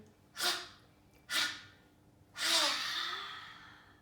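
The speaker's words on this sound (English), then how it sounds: "Deep, long, cleansing breath in." A long, deep cleansing breath during a guided relaxation exercise: two short, airy inhales followed by a longer, fuller breath that trails off slowly, close and soft, with no talking.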